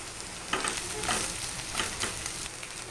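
Cabbage and boiled potato fry in a pan with onion and green chilli, giving a steady crackling sizzle broken by a few louder scrapes of stirring.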